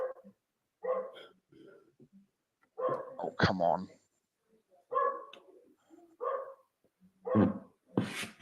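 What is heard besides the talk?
dog barking outside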